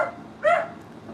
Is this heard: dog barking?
yes